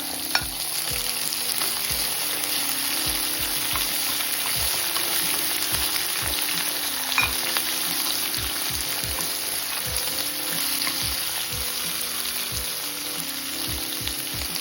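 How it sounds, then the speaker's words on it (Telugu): Green peas, carrot pieces and potato pieces frying in a pan, a dense continuous sizzle with regular soft knocks and scrapes from stirring throughout. "1/4 కప్పు పచ్చి బఠానీలు, 1/4 కప్పు క్యారెట్ ముక్కలు, 1/4 కప్పు బంగాళాదుంప ముక్కలు వేసి వేయించుకోవాలి."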